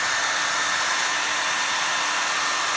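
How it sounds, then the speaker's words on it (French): A hair dryer blows hot air onto a capacitor from a TV LCD being repaired, a steady loud broadband whoosh with a faint motor hum, running continuously without change or talking. "on va commencer à chauffer avec un sèche-cheveux."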